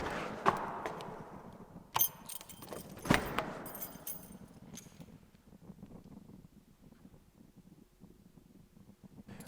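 Keys to a newly rented, empty garage shop space jangle and clink in a few bright bursts over the first few seconds, then fade into a quiet, echoey room hum.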